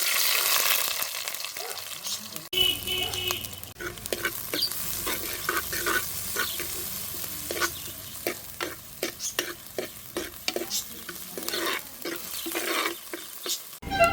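Onions sautéed in a pot over a wood-fired stove for roasted-coconut chicken curry, with steady frying hiss, repeated stirring scrapes and clatter, near and moderately loud, with a brief quieter stretch at the start.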